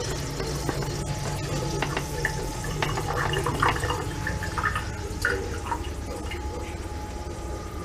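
Moonshine still dripping after shutdown, a steady faint trickle of drops with scattered small clicks over a constant low background hum.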